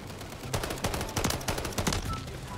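Rapid gunfire fills a Modern Warfare 3 domination match played with only a pistol, loud, close shots in quick irregular bursts, one after another, with no speech over them.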